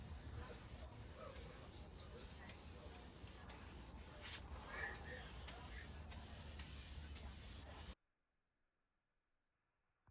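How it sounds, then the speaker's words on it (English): Steady hissing of an aerosol can spraying lacquer onto wood, sprayed continuously for several seconds at close range, then cutting off abruptly to silence. "hit it with a couple of coats of spray lacquer"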